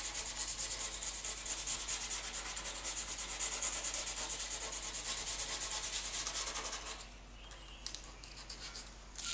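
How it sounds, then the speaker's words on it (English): Steady, continuous sandpaper rubbing on an epoxy finish on a stand-up paddleboard tail, a dry hissing scratch that holds even for several seconds before easing off near the end. "Sanding this beautiful epoxy finish is"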